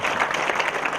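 A church congregation claps hands during worship, a dense, continuous patter of many hands applauding together for about a second.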